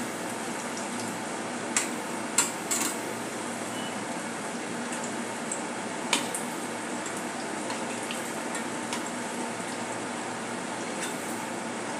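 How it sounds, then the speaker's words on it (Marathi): Bhaji fritters with coriander (khotambir) frying in hot oil, a steady dense sizzle throughout with a few brief louder crackles and clinks near the start. "अशा प्रकारे आपली भजी तळत आहे."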